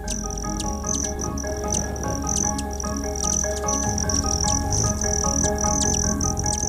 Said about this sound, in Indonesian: Burung kolibri atau hummingbird adalah salah satu jenis burung yang cukup populer.